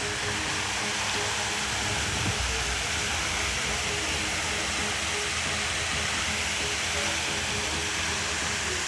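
A waterfall roars steadily beside rock formations as rain tapers off. The broad, even rush of water is fairly loud and continuous, with no speech.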